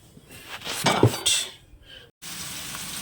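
Fish frying in a home kitchen while vegetable curry is stirred in a pan nearby: a close burst of sizzling and clattering utensil scrapes, then a brief cutoff and a steady hiss of frying.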